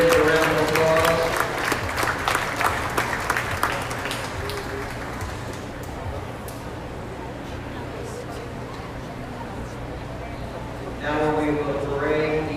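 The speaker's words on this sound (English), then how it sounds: "Give all the reserves a round of applause." A crowd at a beef cattle show applauds the reserve champions for several seconds, the clapping fading out; a voice speaks over the start and again at the end.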